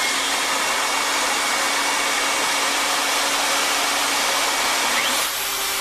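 A handheld wood router with a vacuum attachment cuts wood, giving a steady high-pitched whine with a rushing airflow hiss that runs evenly, then winds down near the end.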